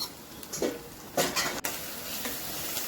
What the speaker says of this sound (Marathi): मग टाका मॅरिनेट केलेले पनीर.